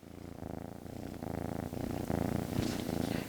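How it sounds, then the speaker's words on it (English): Domestic cat purring while covered up for medicating, a close, quiet, steady rumbling purr with rhythmic breathing cycles and no talking. "can you guys hear him purring?"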